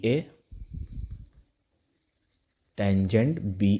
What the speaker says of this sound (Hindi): तो मैं यहाँ सबसे पहले लिखता हूँ टेंजेंट बी